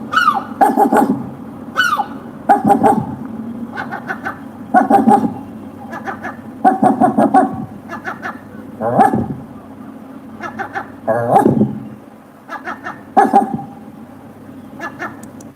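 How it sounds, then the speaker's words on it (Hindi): A seagull gives loud, harsh calls that sound like a dog barking, in short repeated bursts close by with brief pauses between them. "I think my seagull barks."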